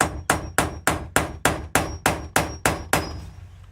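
Around ten quick, regular hammer strikes tap a smaller screw extractor into a stripped screw, crisp and close with brief metallic ringing after each hit.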